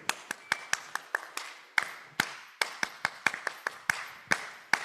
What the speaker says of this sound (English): we're going to clap like this